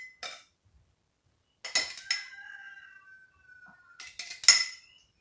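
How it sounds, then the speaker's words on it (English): Roosters crowing outdoors, heard faintly from inside a house: a few distant drawn-out calls, one sustained cry in the middle, separated by short gaps and quiet stretches. "Y'all hear my roosters all the way in the house crowing out there?"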